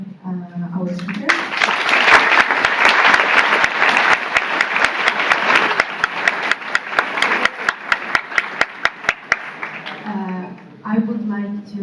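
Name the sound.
audience applause for panel speakers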